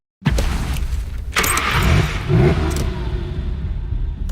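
A car engine starts and revs up in the Medal of Honor Warfighter video game, with a loud, close rising roar in bursts and some clattering, then a steady engine drone.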